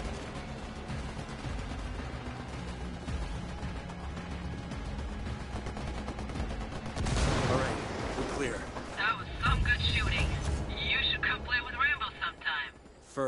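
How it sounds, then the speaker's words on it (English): Gunfire and explosions in the video game Ghost Recon Wildlands as rebels and Unidad forces engage the cartel, loud bursts and booming blasts over continuous game noise, with voices talking. "Shots fired. Unidad's engaging the cartel."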